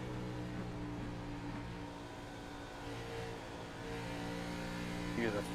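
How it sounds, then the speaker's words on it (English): A race car engine drones in the iRacing sim, its throttle feathered on and off as the driver hunts for grip, the pitch swelling and dipping in a continuous note under a commentator's voice. "Hear the throttle feathering, trying to get that grip"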